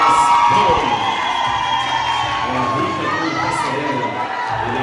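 Organized supporters at a seniors' Miss and Mister beauty pageant cheer, whoop and shout together in a loud, continuous crowd roar with excited high-pitched voices throughout.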